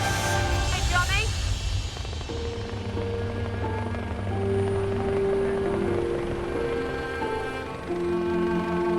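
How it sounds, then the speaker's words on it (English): A police helicopter's low rotor drone runs continuously beneath overlapping voices and tonal hums at a hospital helipad, moderately loud and close. "The air ambulance has to clear the helipad to make room for the police helicopter"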